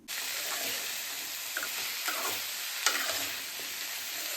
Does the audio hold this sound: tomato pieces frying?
yes